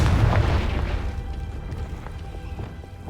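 A Confringo blasting curse from Hogwarts Legacy explodes loudly right at the start, a heavy boom that decays into a rumbling tail over about three seconds, with no talk.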